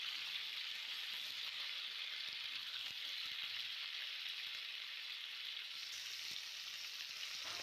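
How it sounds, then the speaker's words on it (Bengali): Palong shak vegetables fry in a pan, a quiet steady sizzle with faint soft stirring taps throughout and no voices. "আমি আবার একটু নাড়াচাড়া দিয়ে নিলাম সবজিগুলো"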